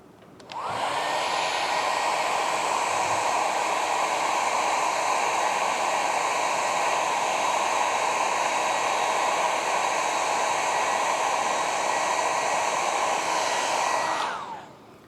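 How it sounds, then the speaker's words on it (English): A hair dryer switches on and blows with a steady, even whooshing roar for about fourteen seconds, then shuts off. "I now need to get rid of the water. So I'm just using a hairdryer."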